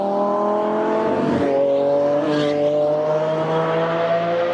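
A Chevy Camaro 1LE with a 3.6-liter V6 drives past at a steady loud engine drone, with a brief tire or passing swell partway through and no voices.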